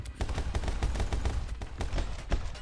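Rapid, loud bursts of enemy gunfire in the side-scrolling action game My Friend Pedro, dense repeated shots in quick succession over the whole stretch, with no talk.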